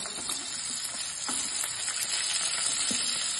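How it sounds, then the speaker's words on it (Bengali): Potatoes frying in hot oil with bay leaf, a continuous soft crackling sizzle with faint occasional stirring taps, steady and fairly quiet throughout. "আলু দিয়ে দিচ্ছি, ভেজে নিচ্ছি"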